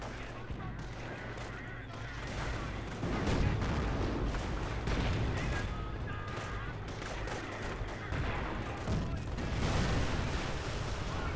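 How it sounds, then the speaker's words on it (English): Battlefield din in Company of Heroes during the Normandy campaign at Cherbourg, with booming blasts and gunfire rolling continuously, a heavier explosion swelling midway, while someone talks over it. "You throw the sticky bomb."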